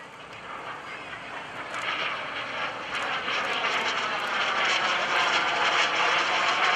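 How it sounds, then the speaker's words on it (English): An FLS Microjet, a small jet aircraft, flies past at the Greenwood Lake airshow, its high whining jet roar building steadily from moderate to loud and holding throughout. "This is a little bitty jet in a great big sky."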